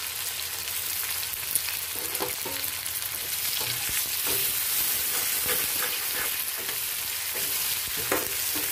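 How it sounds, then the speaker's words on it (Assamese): Onions with green chillies frying in oil in a pan for an Assamese egg curry, giving a loud, steady close-up sizzle with intermittent stirring clatter and scraping throughout. "পিঁয়াজ কেঁচা জলকীয়া দি পিঁয়াজখিনি কালাৰ অহালৈকে অলপ টাইম ভাজিম।"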